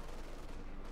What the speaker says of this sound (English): S-mines being set off there by the flak panzer